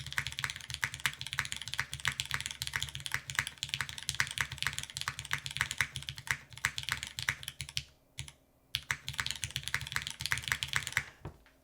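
Rapid, steady typing on a Parabolica60 60% mechanical keyboard, close and crisp, with slight resonance and a brief pause near the end before the clacking resumes.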